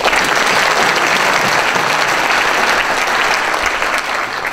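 Loud, dense applause from the audience at a county address, many hands clapping close and continuous, holding steady throughout before easing slightly at the end.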